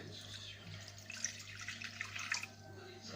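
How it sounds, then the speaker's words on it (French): Water streams into a bowl set on a kitchen scale while bread dough is measured out, a soft, steady trickling and splashing heard up close and faint throughout. "y ajouter l'eau et la levure"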